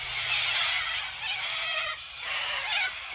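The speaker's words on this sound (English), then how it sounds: "you hear all the birds, man" Many farmyard fowl in an Australian garden call together in a dense, close chorus of honks and clucks, swelling and easing in two loud waves with no voices.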